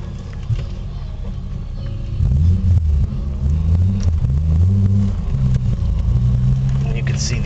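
Acura Legend or NSX pulling away on a drive, a steady low engine rumble from inside the cabin that rises slightly as it accelerates, loud and continuous throughout.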